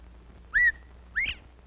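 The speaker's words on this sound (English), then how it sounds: "the quail is extremely popular with almost everyone. Its clear, plucky whistle," Quail whistle call: two clear, bright rising-falling whistled notes about half a second apart, close and distinct over a quiet low background hum.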